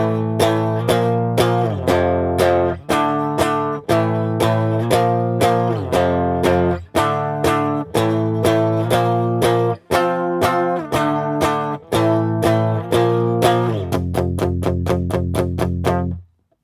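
Distorted electric guitar playing power chords: chugging, sustained chords in repeated bars with short breaks between changes, ending in faster strummed hits, close and alone with no talking.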